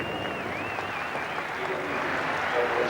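A large cricket crowd at Lord's greets an England batsman coming out during the 1985 England v Australia Test with a steady, dense wash of applause that holds evenly throughout, while a commentator talks over it.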